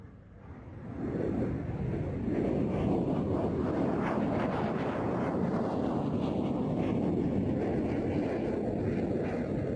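RAF Jaguar jet performing a flying display at Duxford, flown by a No. 16 Reserve Squadron pilot from RAF Lossiemouth, builds from quiet into a loud, sustained roar that holds steady with wind buffeting the microphone.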